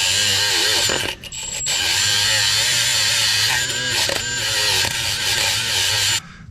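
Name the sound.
power wire brush cleaning metal on engine block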